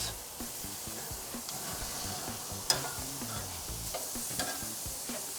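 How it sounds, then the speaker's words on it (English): Lamb cutlets sizzling on a grill just after being flipped, a steady frying hiss with small pops and one sharp crackle partway through, heard close with no talking. "3 minutes down, quick flip. Oh, we got some char, Yazzo."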